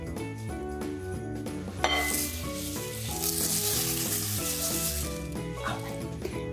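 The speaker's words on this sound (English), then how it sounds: "we're gonna coat the corn flakes in our marshmallow butter, candy melt, food coloring concoction" Corn flakes being stirred into a sticky marshmallow, butter and candy melt mixture, a continuous crunchy rustling and scraping close by, playing over steady background music with no talk.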